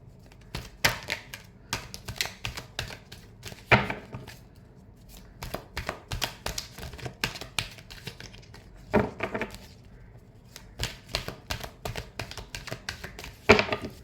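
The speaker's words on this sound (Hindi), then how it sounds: "last shuffle" Tarot cards being shuffled by hand, rapid bursts of crisp riffling clicks and slaps in irregular flurries with brief pauses between, close and fairly quiet, no speech.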